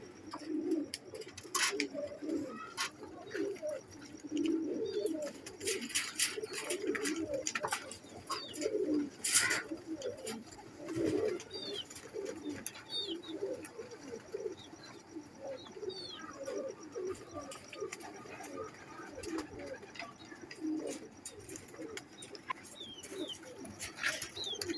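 Pigeons coo in soft, low, repeated rolling calls close by, with occasional chirps and light clicks in the background; Teddy pigeons, one a female.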